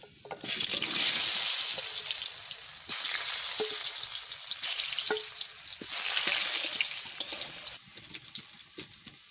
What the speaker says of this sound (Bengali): এইবারটা আমি আলু কটা ভাজা করে নেব।